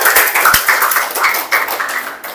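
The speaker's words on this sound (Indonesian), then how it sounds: "Tepuk tangan untuk Andre." Students clap for a classmate in an Indonesian school classroom, a dense, steady patter of many hands lasting throughout, fairly close and loud, with no voices over it.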